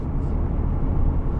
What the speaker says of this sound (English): I'm in 6th gear now, cruising along here.